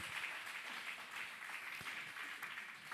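A church congregation claps in a faint, steady patter of applause heard from a distance, continuous for the whole stretch with no clear speech over it.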